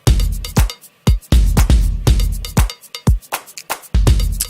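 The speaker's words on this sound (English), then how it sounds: "If you just listen to the groove first, the drums and the percussion" Punchy drum and percussion groove from a K-pop track, with heavy kicks, sharp snare and clap hits and busy percussion in a steady, driving rhythm, loud and upfront with no voices.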